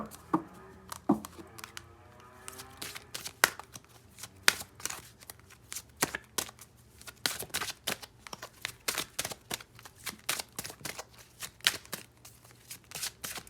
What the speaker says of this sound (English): Normally I shuffle until a card jumps out.